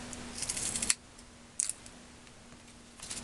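Two short bursts of close, crisp snipping, like scissors cutting paper, separated by a quiet pause, then a third faint snip at the end.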